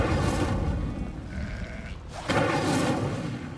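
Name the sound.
sheep bleating in a video game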